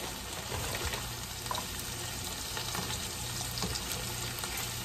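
Potstickers sizzle and crackle steadily in hot olive oil, a close, continuous frying hiss with small pops.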